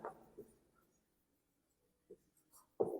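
Pen strokes scratch on paper while notes are written during a chemistry lecture on acids and bases. There are a few short, faint scribbles with gaps of near silence between them, then a firmer stroke at the end.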